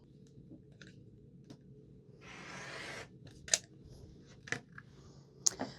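Scissors cut through quilt fabric along a marked line for a quilt block, a soft rasping slice followed by a few crisp snips, close and quiet with no talking.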